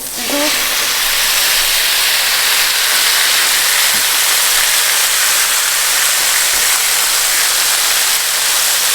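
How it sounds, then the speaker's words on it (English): Brussels sprouts hit an oiled Blackstone griddle at a campsite, a loud, constant hissing sizzle that fills the whole stretch with barely any other sound. "Oh, that sizzle."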